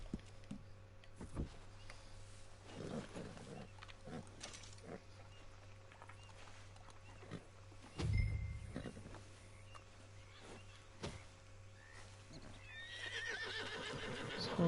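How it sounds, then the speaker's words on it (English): A horse in Red Dead Redemption 2 whinnies and snorts amid scattered hoof clops, with one louder neigh midway and a low steady hum underneath. "This horse doesn't seem to be budging this time."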